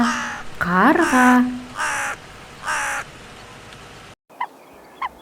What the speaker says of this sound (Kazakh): Қарға, қарға.